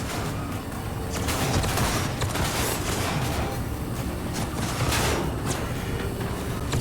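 Gunfire in a Cyberpunk-style video game, dense and continuous with scattered sharp bursts over a rumbling low layer, loud throughout.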